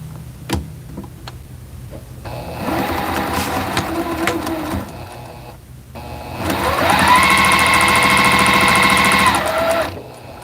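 A sewing machine stitches quilt block seams up close, running in two bursts with a steady mechanical whir and rhythmic ticking, the second run faster and higher-pitched, separated by brief pauses.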